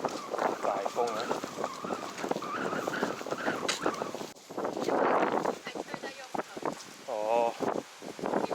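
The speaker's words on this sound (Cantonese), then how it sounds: "大風啊！" Strong wind gusts across a snowy hillside in the UK, buffeting the microphone in rough, roaring bursts while several people talk and call out over it.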